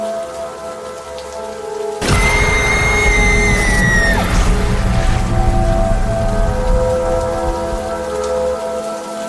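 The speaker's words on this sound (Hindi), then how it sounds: "इतनी तेज बारिश और गरजते हुए बादलों के बीच रात गुजार पाना" Heavy rain pours steadily in a forest at night, with a loud crash of thunder breaking in at about two seconds and rumbling on beneath the downpour.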